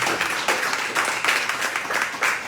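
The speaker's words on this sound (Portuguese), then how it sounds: "Palmas a Deus." A church congregation applauds during a worship service, a steady wash of many hands clapping at moderate volume with no speech over it.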